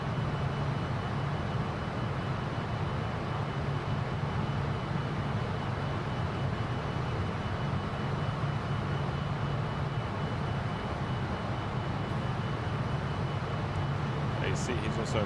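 Fokker F28 airliner engines in Microsoft Flight Simulator 2020 during a climb, a steady low droning roar with a constant hum that holds for the whole stretch, and a voice talking over it.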